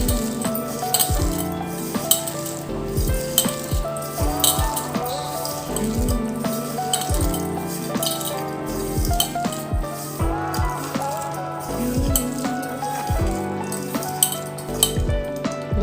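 Samosa filling being mixed with chilli and salt, with busy scraping, clinking and stirring sounds repeating in quick, uneven strokes against a steady sizzling background.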